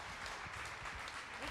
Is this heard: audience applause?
yes